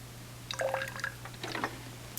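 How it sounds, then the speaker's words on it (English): Liquid being poured into a graduated cylinder to measure 50 milliliters during a science lesson: a brief trickling, splashing pour of about a second, moderately near and fairly quiet, with a steady low hum underneath. "I will pour it into my graduated cylinder here to get 50 milliliters."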